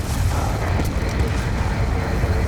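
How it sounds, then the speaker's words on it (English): Missiles explode in Call of Duty Black Ops 2, a loud, sustained rumbling barrage of deep booms and crackle filling the scene without pause. "Avoid the missiles!"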